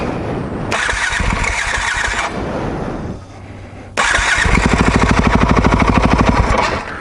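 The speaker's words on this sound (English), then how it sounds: "Let's see if she still starts up." A Yamaha WR450F dirt bike is started up close: a first burst of cranking sputters out, then after a short pause the engine catches and runs with a loud, rapid, pulsing thump.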